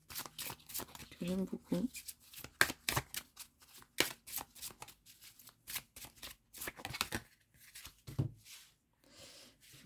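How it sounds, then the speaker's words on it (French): Oracle cards shuffled and drawn by hand, giving a run of quick papery riffles and slaps with brief pauses, close by, under someone speaking French. "je vous tire une carte de l'oracle de la chamane"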